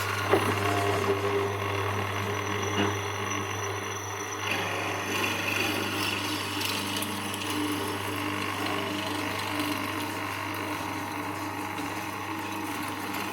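A Charnwood W316 hollow chisel morticer bores into inch-thick oak, a steady loud motor whine with grinding, chattering cutting noise that is busiest at the start and then settles into an even drone.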